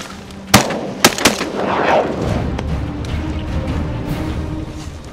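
Shotgun fire during a North Dakota duck hunt: three sharp, loud blasts in quick succession, the last two close together, followed by a lingering outdoor rumble and wind noise.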